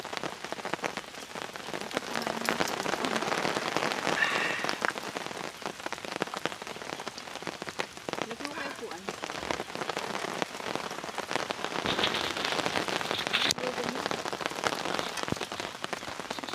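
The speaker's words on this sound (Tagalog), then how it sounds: "Yun nga lang, hanggang ngayon naulan pa rin." Steady rain pattering on surfaces at a riverside farm campsite, a dense continuous patter with scattered heavier drops, no voices.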